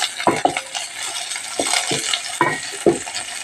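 Onions for frog tinola sautéing in a pan, a steady soft sizzle punctuated by several sharp scrapes and clinks of a utensil stirring against the pan, close and clear with no talking.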